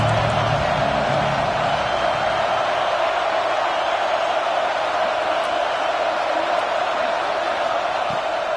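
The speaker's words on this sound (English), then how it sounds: "Big third down as the crowd gets behind this defense." A football stadium crowd roars in a steady, dense wash of noise during a big third down, loud and continuous throughout with no distinct voices standing out.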